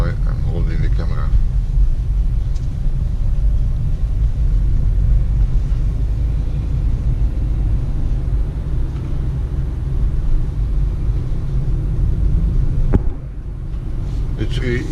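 Cabin of a new Peugeot Partner while driving: a steady low road rumble and engine drone fill the interior, with someone talking over it and a soft thump near the end.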